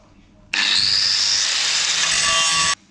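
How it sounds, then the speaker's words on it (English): AEG grinder cutting into wood while building lockable, removable bench sides: a loud, steady high-pitched whir lasting about two seconds, starting and stopping abruptly over a quiet background. "AEG grinder on the job."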